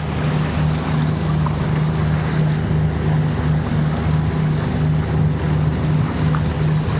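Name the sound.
Outremer 48 catamaran sailing on the sea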